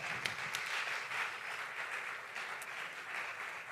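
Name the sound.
applause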